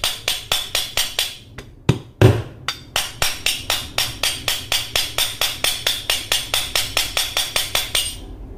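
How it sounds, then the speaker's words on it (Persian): A plastic hammer gently taps a ball bearing onto the armature shaft of a mini router motor, a steady run of about twenty-five even, close, light knocks at a regular pace, with a couple of heavier irregular hits early on. "با یه چکش پلاستیکی آرام به این صورت ضربه میزنیم"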